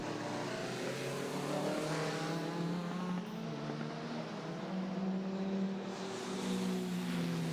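Race cars including a Citroen Saxo lapping Mondello Park in wet conditions, a steady engine drone with shifting pitch and rising passes, mid-distance and continuous with no talk.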